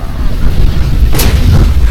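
Cannon artillery fire in a Total War: Warhammer battle, a dense run of booming shots over a constant low rumble, with one sharp blast standing out near the middle.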